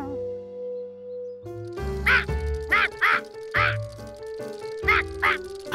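Cartoon ducks quacking in short, bright bursts over a fairground-style shooting game, several quacks in an irregular rhythm over a background musical tone.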